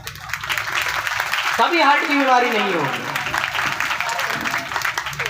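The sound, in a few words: audience clapping hands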